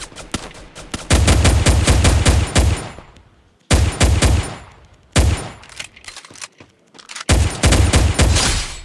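Automatic gunfire in the Free Fire battle royale video game, fired in four loud, sustained bursts separated by short pauses, with no talking over it.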